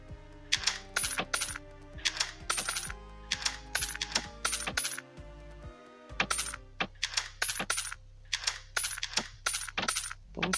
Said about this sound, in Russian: Получаем немножко монет